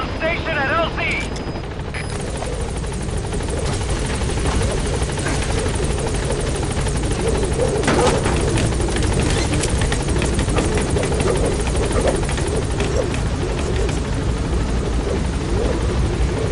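Helicopter arriving at a landing zone in Metal Gear Solid V, a loud, close rotor thrum with dense chopping and whine throughout, game sounds layered over it and no talk.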